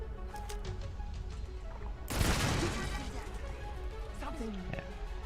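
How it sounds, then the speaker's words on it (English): Auto turret opening fire in Starfield, a dense burst of rapid shots erupting midway and lasting about a second over steady game ambience, with a voice talking throughout. "Oh, it's an auto turret."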